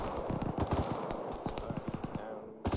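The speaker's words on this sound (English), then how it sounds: "Autocannon east of Alpha." Rapid bursts of autocannon fire in the Arma 3 military game, a run of sharp, heavy reports loosely spaced across the moment, with voices speaking alongside.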